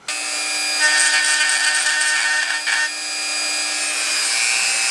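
A rotary power tool sanding glue off the body of a 1959 Cadillac, a loud continuous high-pitched whine with grinding texture, close and steady for the whole stretch with no talk.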